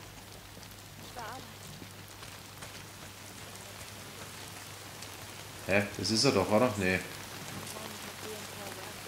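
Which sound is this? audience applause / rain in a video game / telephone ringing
rain in a video game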